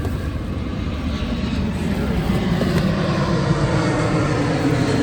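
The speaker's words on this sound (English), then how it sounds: "excuse me for that airplane." A steady low roar of an airplane engine passes overhead, constant and fairly loud throughout with no other sounds.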